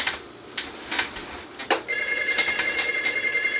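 An old-style telephone rings, a bright sustained bell trill starting about halfway, preceded by a few clicks and rustles; no talking over it.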